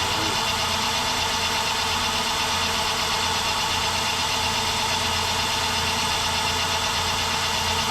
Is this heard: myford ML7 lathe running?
yes